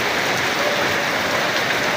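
Steady rain falling near a small bridge by a river, a dense continuous hiss of drops with no breaks, fairly loud and even throughout.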